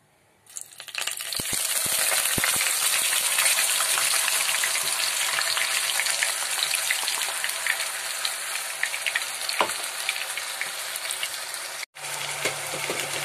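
A thick paste of onion, garlic, ginger and tomato hits hot oil and sizzles loudly and steadily, a dense crackling hiss that continues almost without pause.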